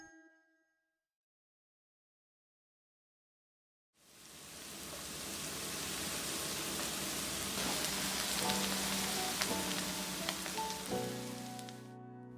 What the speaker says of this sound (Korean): 앞뒤로 노릇노릇하게 지져내고